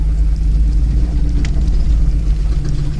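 An older Jeep Cherokee crawls off-road in low gear on a Colorado trail with a steady, loud, close engine rumble and drivetrain drone. The noise holds fairly even, without hard revving.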